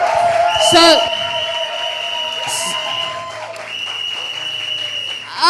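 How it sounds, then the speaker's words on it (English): An audience applauds a business pitch winner named Berry, clapping and cheering over loud overlapping voices, with sharp whoops rising out of the crowd. "Please give her a round of applause."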